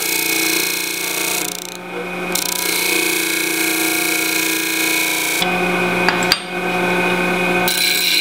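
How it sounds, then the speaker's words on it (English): A power sander grinds steadily against a welded metal piece to square it up, a loud continuous abrasive whine with brief pauses as the tool lifts off the workpiece. "Now let's make sure it's square by using a sander to square it up."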